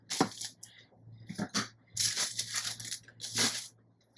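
Adhesive tape being pulled off a roll and torn for paper craft journaling, several short, crisp ripping bursts with brief pauses between them, close and fairly quiet.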